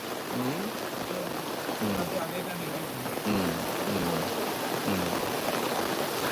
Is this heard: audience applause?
no